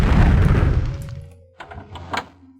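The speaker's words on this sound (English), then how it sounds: "Horse explosion." A spell explosion in the video game Daggerfall bursts with a loud, deep boom that decays over about a second, followed by a few fainter knocks and clatters.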